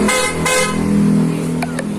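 A car horn honks in repeated loud, sustained blasts close by, with short breaks between them and a running vehicle underneath.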